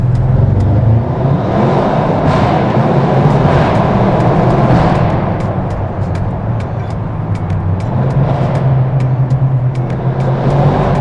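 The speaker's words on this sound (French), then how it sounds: "Écoutez le raffut que fait cette voiture." Loud car driving through a tunnel in Courchevel, a sustained deep engine roar echoing off the walls, close and continuous with a slight dip midway.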